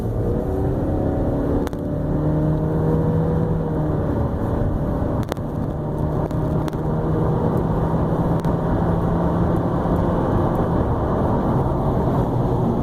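A 2016 Honda Civic Touring with the factory 1.5-liter Earth Dreams engine and CVT accelerates hard, a steady droning engine whir rising in pitch, heard from inside the car with no talking.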